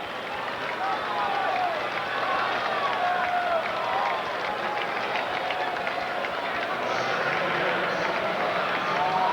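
Baseball stadium crowd at a Twins at Blue Jays playoff game, 1991 ALCS Game 5, a steady broad roar of cheering and murmur, distant and continuous, with a voice faintly over it.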